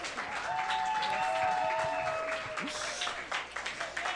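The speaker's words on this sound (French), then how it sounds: "Ben oui, on l'applaudit." An audience at a climate action evening at the Université de Sherbrooke applauds a speaker, with sustained, fairly soft clapping, a few cheering whistles early on, and the clapping tapering off at the end.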